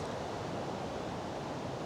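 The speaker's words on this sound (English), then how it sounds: "Massive gusts." A storm blows through a Chilterns woodland camp. Wind roars as a steady, broad rush of air, fairly faint and close, with no breaks or voices over its short span.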